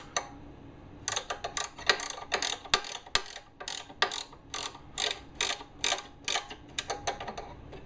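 A bolt is tightened by hand on a Delta 22-540 planer. The wrench gives rapid, crisp ratcheting clicks in short repeated bursts, close and fairly loud against a quiet background.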